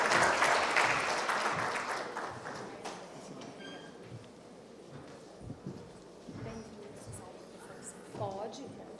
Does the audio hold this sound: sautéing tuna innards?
no